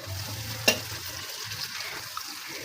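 Fish frying in oil with onion and garlic as it is stirred, making a continuous close sizzle with one sharp clink of a utensil early on and faint stirring scrapes after.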